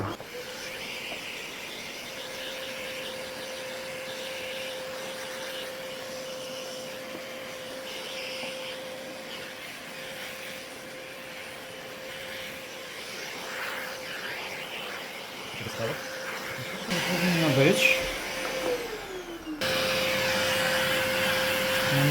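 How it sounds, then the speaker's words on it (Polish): Vacuum cleaner fitted with a soft bristle brush, dusting cobwebs inside an old Grundig Type 2042 W tube radio; a steady close whine runs throughout, rising louder near the end with brief scraping changes, and a voice says a few words. "odkurzacz przygotowany miękka szczoteczka z włosiem. Przystąpimy sobie w pierwszym rzędzie do odkurzenia tych pajęczynek."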